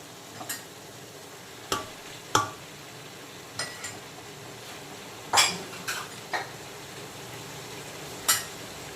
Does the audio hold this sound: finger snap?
no